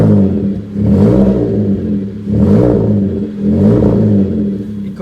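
A modified Volkswagen Polo 5 with a 92-horsepower engine, still cold, revs three times in succession, each rise and fall of the engine note close and loud with a rough, throaty tone.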